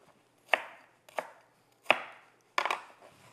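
Knife slicing through an onion on a cutting board, four sharp separate cuts about two-thirds of a second apart, close and crisp against near silence.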